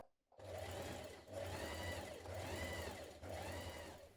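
Sewing machine stitching bias binding on a jumpsuit, a steady close-up whir that pulses in regular surges for several seconds with no talking.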